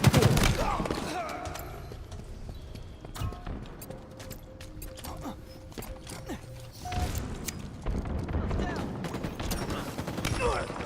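Rocket launcher blasts and scattered gunfire in the shooter game Halo Infinite, a busy stretch of repeated bangs and mechanical clatter at moderate loudness, with a faint steady tone and voices here and there.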